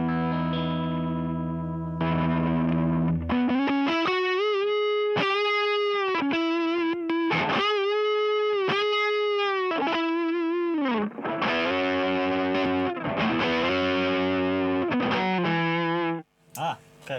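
Electric guitar through a Klon-clone overdrive pedal, played alone as sustained chords and held notes with a crunchy, gritty drive, loud and close, ending in a brief cutoff.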